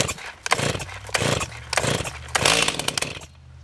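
A Stihl MS290 chainsaw fitted with an MS390 engine is pull-started several times, with rhythmic rope-pull bursts and brief engine coughs, fairly close and loud, ending in a quiet pause.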